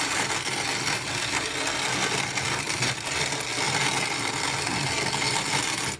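Hand-cranked mill grinding dried potatoes into flour, a continuous close, loud rasping and crunching grind that runs without pause, with no voices.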